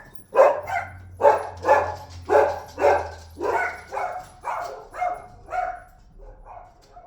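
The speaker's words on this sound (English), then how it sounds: "And they're still barking outside." A dog barks repeatedly in an even rhythm, around ten barks fading slightly toward the end, fairly close with no voices.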